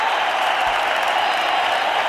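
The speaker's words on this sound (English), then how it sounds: "Something to cheer about for this Mumbai crowd." A large cricket stadium crowd in Mumbai roars and applauds in a dense, steady wash of cheering, loud and unbroken throughout.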